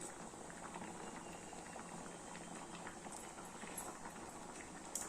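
A pot of white potato and pea kuruma curry bubbles and simmers steadily at a low, soft level, with faint gurgling pops throughout and no talking.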